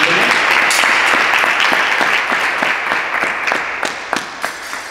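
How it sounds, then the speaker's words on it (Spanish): Live audience applause at a lecture on Renaissance historical fencing treatises, steady dense clapping that thins toward the end into a few scattered, sharper claps. "por favor, un aplauso"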